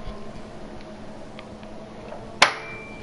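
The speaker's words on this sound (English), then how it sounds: "Sorry about that noise, my wheel has just slightly popped out." Sim racing wheel popping out of its mount during an F2 Austrian GP sim race, a single sharp clack standing out from a low steady background hum.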